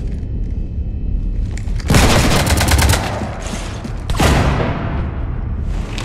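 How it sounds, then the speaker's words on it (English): Gunfire raking a ship in the Mass Effect 3 video game, two loud bursts of rapid automatic shots with booming impacts, separated by a quieter stretch of mechanical background rumble. "You want to stop shooting up my ship?"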